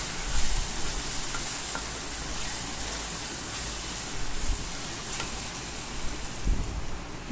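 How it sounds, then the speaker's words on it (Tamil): Spiced masala with turmeric for a chicken fry sizzles in a pan while a spoon stirs it, making a constant crackling hiss broken by soft scraping strokes, close and unaccompanied by speech. "நல்லா இது மாதிரி ஃப்ரை பண்ணிக்கிட்டேன்."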